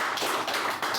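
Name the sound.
audience applause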